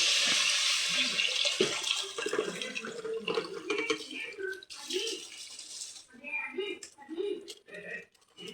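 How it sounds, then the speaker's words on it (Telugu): Water is poured into a pot of washed rice for Telugu-style bagara rice, starting with a loud splashing gush that gives way to uneven sloshing and gurgling. "2 డబ్బాలకి 4 డబ్బాలు వాటర్ పోస్తాము"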